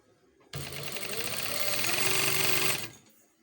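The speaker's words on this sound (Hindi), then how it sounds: "इस तरह सिलाई लगा लेनी बैक पे" A sewing machine stitches the folded waistband of ladies' trousers, starting abruptly and running in a steady, close whirring burst for a little over two seconds before stopping.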